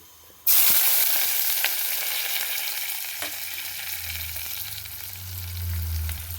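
Onion dropped into a hot pan sets off a sudden loud hissing sizzle that settles into steady close frying, with a low hum rising toward the end and no talking.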